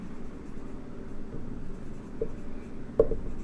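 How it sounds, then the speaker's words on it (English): Chalk or marker scratches faintly across a board in a classroom chemistry lecture, steady low scraping with a couple of brief taps, fairly quiet against room hum. "I will write here"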